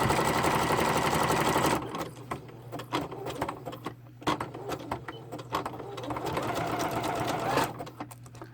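A sewing machine stitches a zigzag across a layered journaling card, running as a loud, steady rapid chatter, then breaking into shorter bursts of stitching and pauses with mechanical clicks, up close.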